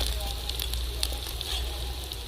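Chopped onion hits a hot pan of Chinese-style soybean chilli with garlic and ginger, giving a steady close sizzle and crackle of frying that holds without a break.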